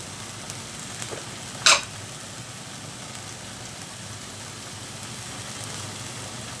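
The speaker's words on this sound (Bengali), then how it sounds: "এখন একটু নেড়ে চেড়ে মিশিয়ে নিচ্ছি" Onion, ginger and garlic paste with chili powder, turmeric and salt is stirred in a frying pan for an egg and cauliflower curry, giving a steady low sizzle with one sharp scrape of the spoon.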